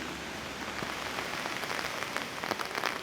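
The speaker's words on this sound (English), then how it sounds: "And it's raining." Steady rain falls at Blarney Castle in Ireland, a dense close patter of drops hitting surfaces with no voices, holding at an even level throughout.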